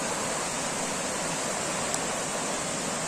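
Natural spring water pouring at an outdoor bathing resort in Nayarit, a constant broad rushing hiss like a small waterfall, steady and fairly near with no voices over it.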